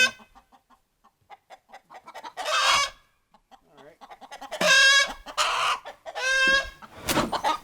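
Hens cluck and squawk in short bursts, with several loud drawn-out calls rising near the end, close by.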